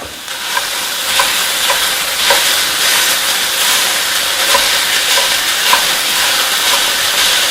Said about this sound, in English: Now, I've got a pound of ground beef I'm going to dump in here.